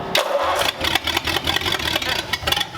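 A flathead car engine cranks and catches, then settles into a loud, rough, pulsing idle close by.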